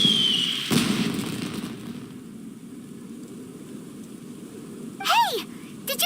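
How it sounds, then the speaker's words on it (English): In Genshin Impact, a single firework bursts with a crackling boom near the start, then a whistling, descending sparkle later, each brief against a quiet background. "Did you hear that explosion? Maybe it was fireworks."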